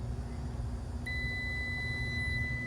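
A multimeter gives a sustained continuity beep as its lead touches a point on a three-phase compressor, a steady high tone starting about a second in over low background hum.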